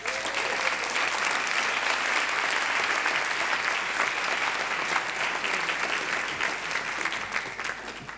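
Audience at the Alsace 2018 final of a three-minute PhD thesis contest applauds to welcome the next doctoral contestant: thick, continuous clapping from a full room, loud and steady, easing slightly near the end.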